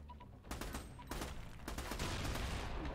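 Rapid video game gunfire aimed at a bomb, several sharp bursts of shots close together, loud and dense, building into a continuous clattering roar.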